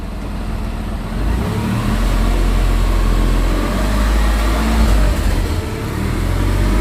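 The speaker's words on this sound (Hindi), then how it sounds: "मैं अभी पावर दे रही हूँ, क्लच को दबा लिया, देख लिया आपने, ओनली रीविंग" A car engine revs loudly with the clutch pressed, a steady close roar that swells and holds at higher revs throughout, with no talk over it.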